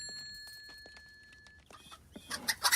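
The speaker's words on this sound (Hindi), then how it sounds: "वो एक मुर्गा है।" A rooster in a veterinary clinic gives faint, short clucks that grow into a cluster of louder, sharper calls near the end, with some high thin tones early on.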